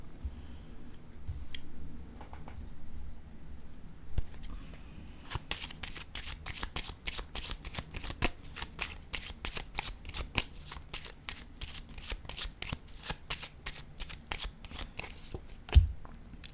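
Deck of tarot-style cards being shuffled close up, a rapid run of crisp riffling ticks and flutters after a few quieter handling sounds, ending with a soft thump.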